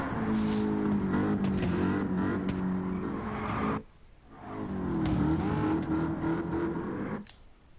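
Race car engines roar in Gran Turismo 7 as a Shelby GT350R and a C8 Corvette battle, loud sustained revving with gear changes, a brief drop in the middle, then the engines surge again.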